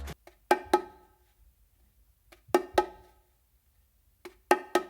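Sharp open bongo strikes on the macho, the smaller drum, land in tight pairs, three groups spaced across the clip, each hit ringing briefly before silence.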